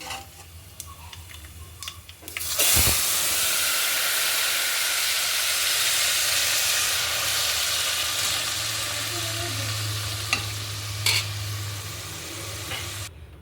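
Pappu charu, a lentil-tamarind broth, poured into hot tempering bursts into a loud, steady sizzle after a short quieter lead-in, hissing strongly and continuously with a few brief clicks and clatters near the end.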